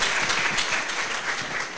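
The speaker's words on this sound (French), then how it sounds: "Est-ce qu'on peut l'applaudir," At a Miss Level Up 2023 beauty pageant, a dense, continuous burst of crowd applause from many hands fills the room, loud and even throughout.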